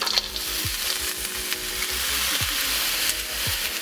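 Shrimp hit hot oil in a pan for fried rice, a steady loud sizzle with occasional stirring scrapes and clinks, heard up close with no talking.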